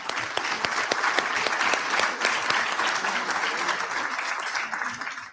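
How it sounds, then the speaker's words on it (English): Applause from an audience at the opening of an education congress, many hands clapping densely and steadily for several seconds before tapering off near the end, with a faint voice underneath. "I would like to applaud Emmanuel and all the students here"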